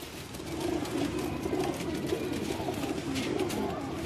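Pigeons cooing on a rooftop in Rahmanpura, Ichhra, their soft continuous murmur steady and close throughout, with no speech.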